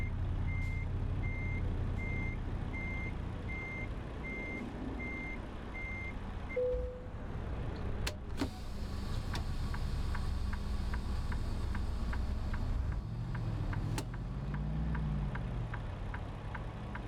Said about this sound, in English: Well, this truck takes a bit to go.